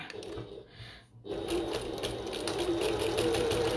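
A sewing machine stitches a pocket onto a bucket tote bag at a narrow one-eighth-inch seam, with a brief hush before a steady, close, continuous run that fills the rest of the moment.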